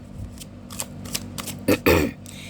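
Tarot cards being shuffled close up, with a few soft riffles followed by two louder, sharper bursts of cards flicking together near the end.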